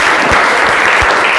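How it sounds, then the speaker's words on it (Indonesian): Classroom of students applauding after a music lesson, loud close continuous clapping from many hands filling the brief moment, with no talk. "Oke, tepuk tangan buat kita semua."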